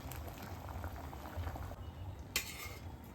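Paneer butter masala gravy bubbles in a pan on the stove, a soft, continuous simmering burble with small pops and one brief clink of utensil near the end.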